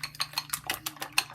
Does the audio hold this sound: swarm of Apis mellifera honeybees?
no